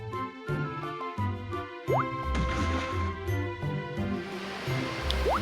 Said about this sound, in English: I just move the rock and it waters everything